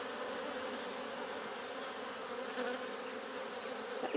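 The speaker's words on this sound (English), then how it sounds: "Beautiful little bees these are." Honeybees buzz around an open hive, a constant close droning hum with individual bees briefly passing louder near the microphone.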